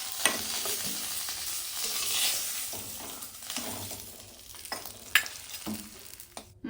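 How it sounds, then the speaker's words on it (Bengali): Fish heads frying in oil and being turned in the pan, a close, dense sizzle with a few sharp clatters and stirring scrapes, swelling and fading, with no talking. "মাথাগুলোকে উল্টে পাল্টে লাল করে ভেজে নিতে হবে।"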